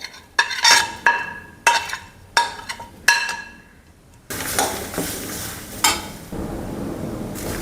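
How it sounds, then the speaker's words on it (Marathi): Fresh grated coconut lightly roasting in a pan, with sharp clinking scrapes of a spoon against the metal in quick separate strokes, then a steadier soft sizzle with occasional stirring knocks, close and without speech. "ओलं नारळ हे थोडं भाजून घ्यायचं हलकं भाजायचं आहे"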